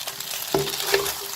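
Two yellow croaker fish frying in a covered pan over medium heat for a holiday meal, a steady soft sizzle with a brief clatter and a faint clink partway through, close by and without talk.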